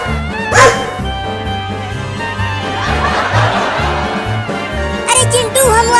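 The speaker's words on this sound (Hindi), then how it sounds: "पीछे वो बड़ा कुत्ता हमें काटने के लिए आ रहा है" A big cartoon dog barking during a chase scene, the barks set over a busy comic music score with snickering laughter and bright sound effects.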